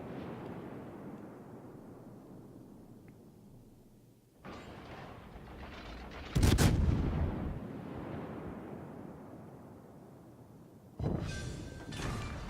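Naval battle game with warships firing: deep booming salvos and rumbling blasts come in a few heavy bursts over a low, steady background, the loudest one near the middle.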